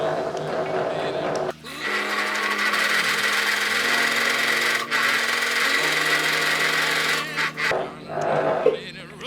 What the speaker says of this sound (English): Put it at the back and we're gonna sew again.